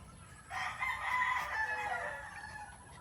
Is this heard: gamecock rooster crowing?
yes